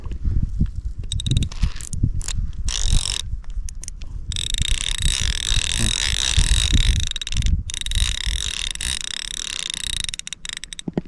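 A fishing reel's clicker ratchets with rapid, rough clicking in uneven bursts and short pauses, close and fairly loud, and runs on for about ten seconds without any talk.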